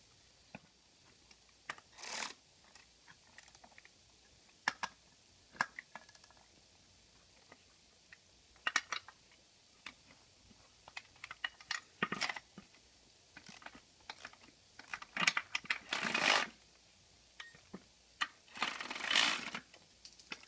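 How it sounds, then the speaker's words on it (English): Bolts on a Ford oil cooler being run down and tightened during a 6.0 Powerstroke EGR cooler repair: scattered metallic clicks, ratcheting bursts and tool clatter in uneven clusters, close by, with quiet gaps between. "Now we're going to torque the bolts down. Get it all started, tighten it up."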